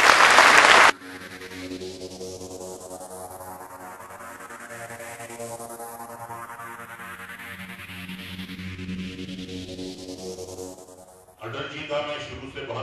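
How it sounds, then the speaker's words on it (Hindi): An audience at a birthday celebration for Atal ji breaks into a short burst of loud clapping, which quickly gives way to sustained music, with a brief rustle of crowd noise returning at the end. "अटल जी के लिए पहले तालियां बजाई जाए।"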